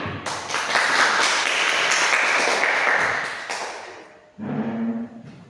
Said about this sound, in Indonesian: Kita beri tepuk tangan untuk kalian.